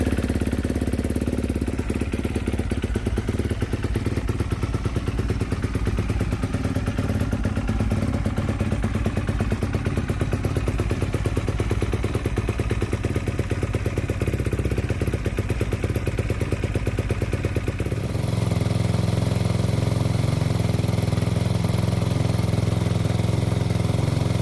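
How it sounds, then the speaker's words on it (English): Yamaha YFZ450R ATV engine idling to warm up before an oil change, a steady rough single-cylinder clatter and rumble throughout, close by, with a shift to a deeper, smoother tone near the end. "we're going to warm it up and let it run for just a few minutes before we drain the oil"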